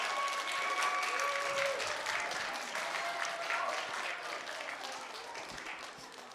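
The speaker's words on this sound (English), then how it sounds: "you guys want to just give them one more round of applause for being absolutely amazing" Audience applause at a history event, a continuous round of clapping with scattered voices, moderately loud at first and gradually tapering off.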